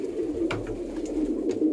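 Pigeons in a pigeon loft cooing softly, low repeated coos close by with a couple of brief rustles, with no talk over them.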